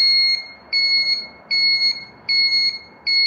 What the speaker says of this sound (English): Does the annoying buzzing